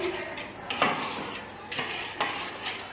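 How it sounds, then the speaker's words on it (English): Spoon or utensil scraping and clinking around a bowl while wet ingredients for ANZAC biscuits are stirred together, several rhythmic scrapes close and fairly loud, with no one talking. "we give it a good mix to combine all the wet ingredients together"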